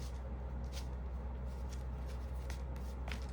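A deck of cards being shuffled close by, quick repeated riffling bursts in an uneven rhythm over a low steady hum, quiet overall.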